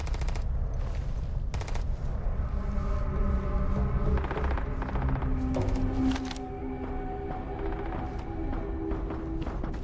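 Turret gunfire in a video game: rapid bursts of shots crackle over a dense, continuous rumble of game noise, loud and steady throughout with no clear talk.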